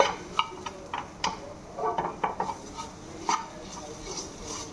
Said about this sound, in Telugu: సో మంచిగా మిక్స్ చేసేసుకొని కొంచెం వేగాలి